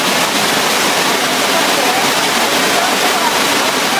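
A mountain stream pours over a weir-like waterfall in the Namera-sawa gorge, a steady, loud, close rushing roar of falling water that fills the whole stretch without a break.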